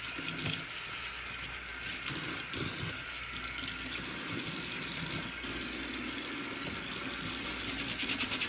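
Water runs steadily from a tap while Yeezy sneakers are being cleaned, a continuous hissing splash with faint scrubbing and handling noises underneath.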